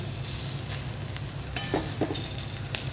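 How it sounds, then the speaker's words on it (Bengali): Gima shak fritters frying in oil, a dense steady hiss of bubbling fat with a few faint clicks from turning, close and even throughout with no voices. "আর এক সাইড এইভাবে কড়া করে আবার ভেজে নেবে"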